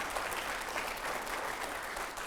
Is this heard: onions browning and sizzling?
no